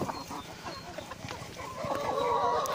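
Chickens cluck and chatter softly at a distance as they crowd a new outdoor run, with steady low background noise and a busier stretch of calls toward the end.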